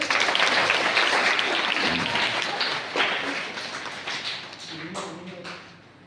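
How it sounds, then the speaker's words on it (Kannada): A room full of people applauds together at the close of a Basava Guru puja and children's letter-writing initiation ceremony, the dense clapping slowly thinning and fading over several seconds, with some voices mixed in. "ಈಗ ಮುಕ್ತಾಯಕ್ಕ ಬಾಬಟ ಎಲ್ಲರೂ ಚಪ್ಪಾಳೆ ತಟ್ರಿ"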